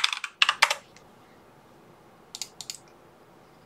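Typing on a computer keyboard: a quick burst of clicky keystrokes, a pause, then a second short run of taps, close and fairly clear with no talking.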